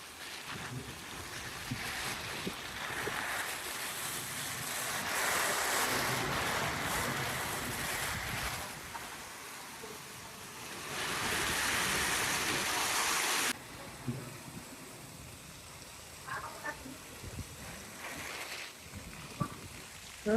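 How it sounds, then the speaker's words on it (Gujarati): Heavy summer downpour with strong wind in Vimalnagar, a steady broadband roar of rain and gusts that swells louder in stretches, then eases slightly, with no talk over it. "વિમલનગર ફૂલ ધોધમાર વરસાદ ચાલુ થઈ ગયો છે"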